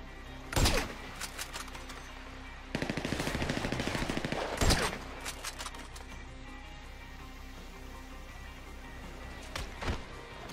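Automatic gunfire from GTA Online comes as a sharp burst, then a sustained rattling volley of about two seconds, with a lone shot near the end and quiet game ambience between.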